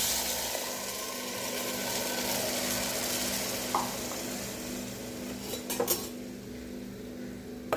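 Onion paste going into a hot pan for a Tamil bottle gourd kuzhambu, with a steady close sizzle of frying oil and a few clinks and scrapes of a spoon stirring against the metal pan.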